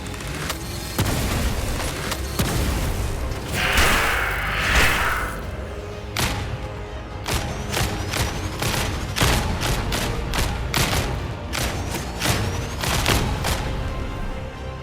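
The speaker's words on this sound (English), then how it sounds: "the plasma gunners unleash a deadly fusillade" A battle-report fusillade effect: a rapid series of sharp, loud shots and booms with a whooshing burst partway through, dense and continuous with no voices.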